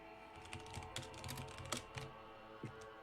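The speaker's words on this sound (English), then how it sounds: "Aggressive typing in the background" Rapid, forceful typing on a computer keyboard clatters in the background, uneven keystrokes with a few harder slaps, faint and close with no talk over it.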